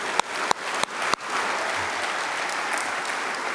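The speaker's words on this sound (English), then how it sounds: "I want a big round of applause for all of our coaches." An audience at a high school sports awards show applauds the coaches, a steady roar of clapping following a few loud, sharp claps near the start.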